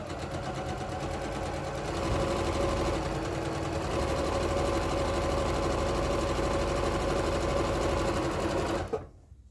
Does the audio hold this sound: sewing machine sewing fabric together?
yes